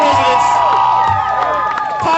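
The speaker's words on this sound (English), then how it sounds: "How about some applause for all these great eaters?" Crowd cheering and whooping with applause at an outdoor hot dog eating competition in Georgia, loud and close with excited shouts and voices layered over continuous clapping.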